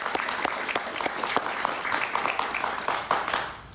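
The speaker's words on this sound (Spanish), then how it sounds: "Un aplauso para él, por favor." A television studio audience applauds a guest on an interview program, sustained crowd clapping with distinct claps scattered through it, steady and fairly loud, tapering slightly at the end, with no voices.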